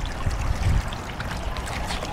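Water trickles and splashes in a fountain, a steady, soft outdoor burble with a brief low rumble near the start and no voices.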